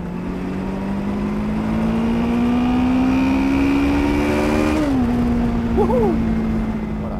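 A motorcycle engine pulls in third gear up into VTEC, its whine rising steadily and loud for about five seconds before easing off after a shift, with wind noise throughout.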